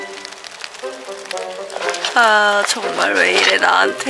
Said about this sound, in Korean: 왜 비가 오는 거야.